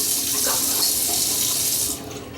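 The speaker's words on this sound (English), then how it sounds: "I'll just rinse my fingers because it is a little bit slippery" Tap water runs steadily into a bathroom sink while fingers are rinsed, a loud close hiss that eases off near the end.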